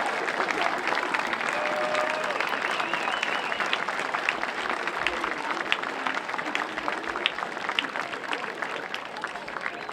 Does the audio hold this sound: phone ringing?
no